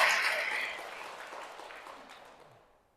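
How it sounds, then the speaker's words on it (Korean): Church congregation applauding, a dense burst of clapping that starts full and steadily fades away over a few seconds. "박수!"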